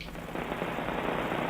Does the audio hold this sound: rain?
yes